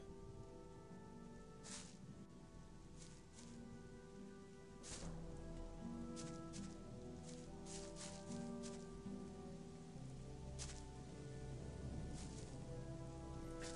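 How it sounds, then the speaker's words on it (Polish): Rain beginning to fall in Gothic 1, a soft, steady patter that grows slightly denser, with scattered sharper drops over a quiet musical drone. "O nie, zaczyna padać."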